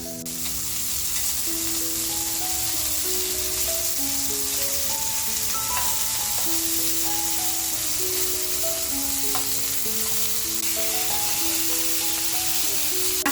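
Bombay duck (bombil) fish fry in a pan, giving a loud, steady close-up sizzle that runs throughout, with faint music playing underneath and no talking.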